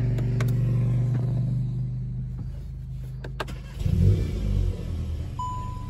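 Volkswagen Golf 8 GTI engine heard from inside the cabin: a low steady hum, then a brief surge near the end as it fires and settles into a quiet idle, with a short electronic chime.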